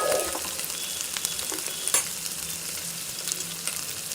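Sliced onion with salt stirred in hot oil in a pan, giving a steady sizzle with occasional sharp scrapes and clicks of the spoon against the pan.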